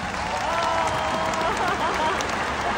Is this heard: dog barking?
no